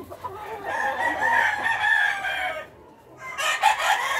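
Several gamecocks crow in a breeding yard, their drawn-out calls overlapping at moderate distance, with a brief lull before more crowing and clucking resumes; no one speaks.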